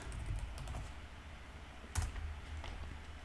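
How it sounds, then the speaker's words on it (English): Typing on a computer keyboard, a few soft scattered key clicks with one sharper tap partway through, close and quiet with no talking. "all we got to do is type in cruise"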